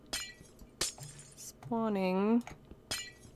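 Glass blocks shattering in the Minecraft video game, several short crisp breaks spaced over a few seconds, with a voice talking briefly and a drawn-out tonal game sound in the middle.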